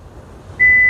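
Isuzu MU-X 1.9 power tailgate giving a single steady confirmation beep, loud and close, starting after a low background hum and holding to the end.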